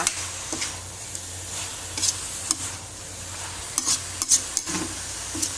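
Chicken curry with vegetables sizzles in a hot pan while a utensil scrapes and stirs in occasional clanking strokes over a steady frying hiss.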